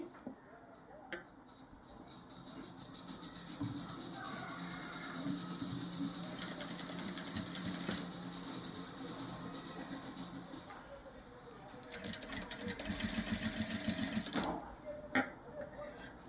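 Sewing machine stitching thread piping along the edge of a cutwork neck design: fast continuous mechanical whirring and ticking, pausing briefly and resuming, with someone talking over it.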